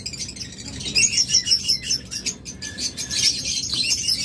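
A pair of lutino Fischer's lovebirds chirps close by in quick, high, bright bursts, with brief gaps between the calls.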